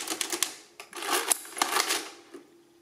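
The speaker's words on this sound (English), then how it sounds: "just pull the lever and it gets printed onto the paper here" Precisa 102-1 mechanical adding machine with its lever pulled, printing onto paper: a quick run of sharp clacks and rattling mechanical strikes, loud and close, settling into softer clicks at the end.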